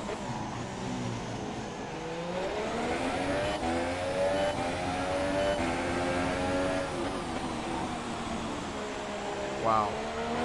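Camaro race car engine at full throttle in a racing game, a loud sustained rising and falling roar as it crosses the start-finish line, with a brief higher squeal near the end.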